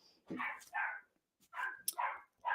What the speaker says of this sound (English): my dogs are barking in the background here